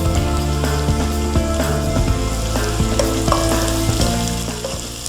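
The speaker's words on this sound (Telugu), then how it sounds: "ఫస్ట్ వేసింది అయితే జీలకర్ర, ఆవాలు." Cumin and mustard seeds fry in hot oil for mutton curry, giving a loud, dense sizzle with scattered sharp pops and crackles, close and continuous, fading slightly at the end.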